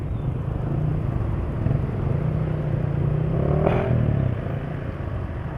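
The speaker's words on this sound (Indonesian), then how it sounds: "Jadi ini sudah kedengaran agak kasar nih suara mesin." A Kawasaki motorcycle engine running on Shell oil idles with a rough, uneven low rumble, loud and close, swelling briefly as if revved before settling back.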